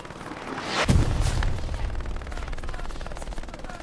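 A grenade blast in Hell Let Loose, a competitive console match of World War II combat, bursts as one loud near boom followed by a rumbling tail, with scattered distant gunfire continuing after it.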